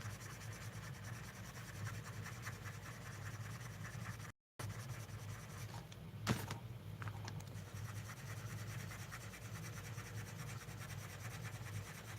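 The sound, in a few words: colored pencil drawing on paper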